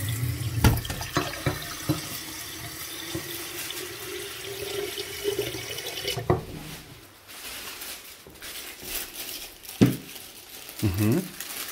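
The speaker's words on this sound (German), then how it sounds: "Ich mach Wasser drin." Water runs from a kitchen tap into a container, a steady splashing flow broken by clinks of dishes and crinkling, with people talking intermittently nearby.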